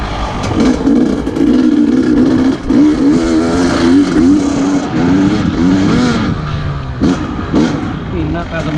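KTM 300 XCW TPI two-stroke dirt bike warming up on slippery muddy leaves, a loud, close engine burbling and revving unevenly throughout.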